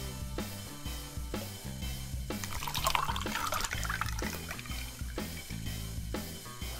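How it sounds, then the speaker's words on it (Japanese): Beer being poured into a mug, a continuous gurgling splash that swells in the middle as foam builds, over a low rhythmic musical background with no talking. "いつものように健康第一ジョッキについていきます"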